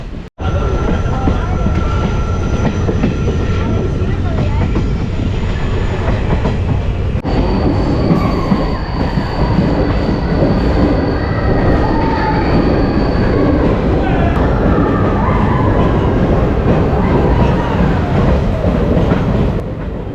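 A train rolls along the Kottayam–Kollam–Tenkasi line beside a road and river, a loud continuous rumble with wheel noise and thin high squeals and tones, heard from on board.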